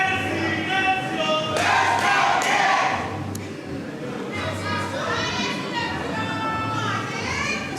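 A loud arena crowd at a Texas wrestling match roars and shouts continuously, children's voices mixed in, under an announcer's running commentary.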